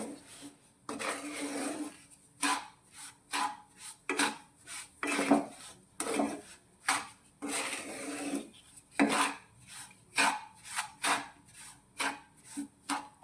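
A spoon scrapes and clanks against a pan while a roasted sweet filling for ghughra is stirred with the flame off, giving irregular rasping strokes and metallic knocks in close bursts.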